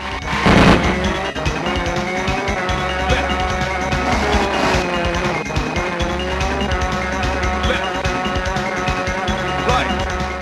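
A racing car drifts in the arcade game Neo Drift Out, with a steady engine drone, squealing tires and game music layered together continuously.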